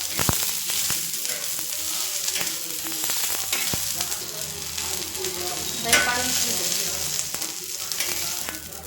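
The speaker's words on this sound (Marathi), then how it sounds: "याच्यावर खोबरं भाजून घ्यायचं लसूण आदर पण कोथंबीर थोडी भाजून घ्यायची" Coconut, garlic, ginger and coriander dry-roasting in a pan give a steady, close crackling sizzle, broken by the occasional scrape and knock of stirring, with no voices.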